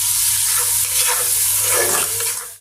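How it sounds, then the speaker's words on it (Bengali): Spice paste with chili powder and salt stir-fried in a pan for a mustard and drumstick curry, giving a loud, continuous close-up sizzle with steady frying hiss and no talking. "এখন এই মশলাটা আরও ভালো করে কষিয়ে নেবো অনেকক্ষণ ধরে"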